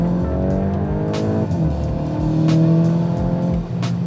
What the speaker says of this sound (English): Engine note is very familiar.